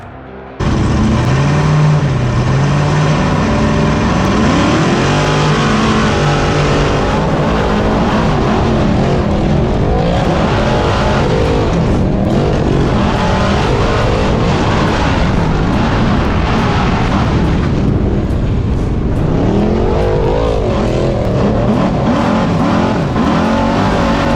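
Ultra4 off-road race cars roar through an extreme off-road race at Sturgis, South Dakota, engines screaming loud and close, with rising and falling revs and overlapping passes throughout.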